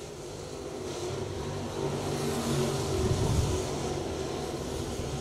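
Sportsman Late Model race cars roaring around Magnolia Speedway, a continuous engine drone that swells as the pack passes, heard from a distance with no talk.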